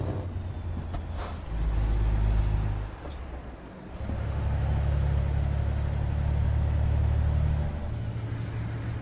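A Freightliner FLB truck in a driving game: a heavy diesel engine drones, drops away briefly as a sharp hiss of air brakes bursts, then the engine returns with a steady low rumble.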